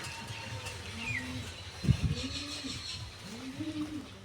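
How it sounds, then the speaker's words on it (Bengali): Pigeons coo softly in repeated rolling phrases in the leafy grounds of the Gupta Vrindavan temple, over a quiet background hiss, with a brief thump midway. "কি সুন্দর পায়রার আওয়াজ"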